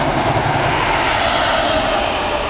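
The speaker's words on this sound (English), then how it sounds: "There goes another Norwich bound intercity service now." An intercity train bound for Norwich passes through Needham Market station in Suffolk, England, giving a steady, loud broadband rumble and roar that holds close and unbroken throughout, with no voices.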